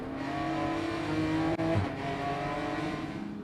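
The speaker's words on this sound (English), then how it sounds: "Now right on board with James Walker Jr. as he comes through turn 5" GT4 race car heard on board through turn 5 at Sebring International Raceway, its engine a loud, steady drone with a brief lift and gear change midway before pulling hard again.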